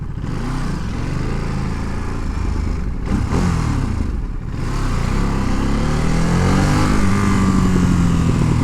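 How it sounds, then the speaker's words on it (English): Motorcycle ridden through city traffic, a steady close engine drone that swells slightly toward the end, continuous and alone with no talk. "this bike is fucking dope"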